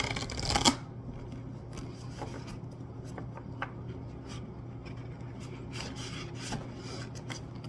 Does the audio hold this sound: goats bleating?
no